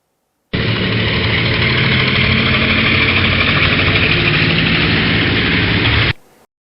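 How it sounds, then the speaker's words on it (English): A helicopter engine runs in a steady, loud whine and roar with constant rotor-driven rumble, close and unbroken for about six seconds before stopping abruptly. "Helicopter."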